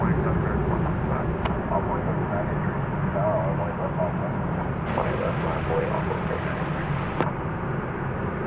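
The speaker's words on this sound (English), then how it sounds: "there's just lots of planes lined up to take off" Airplanes lined up for takeoff at DFW Airport produce a steady, loud broadband jet rumble that continues without a break, with faint higher engine whine on top and occasional soft knocks.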